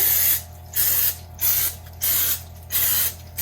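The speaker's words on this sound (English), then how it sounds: "I'm just going to go ahead and spray our muffin tin" Five short bursts of butter-flavored cooking spray onto a muffin tin in a steady rhythm, each a close hissing blast separated by brief pauses.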